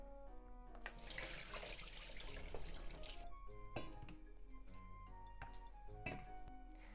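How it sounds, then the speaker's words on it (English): Water running from a tap as chopped onions drain in a sink, a steady close wash of trickling and splashing with scattered drips and clinks, no talking. "Let's drain onion."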